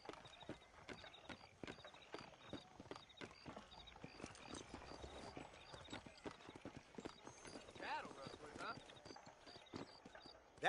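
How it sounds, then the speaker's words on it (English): Horse hooves clip-clop steadily in a Western town street in Red Dead Redemption, beneath near-continuous in-game dialogue, with a brief whinny and a sharp louder hit at the very end. "You see those horses to the left by the building across the street?"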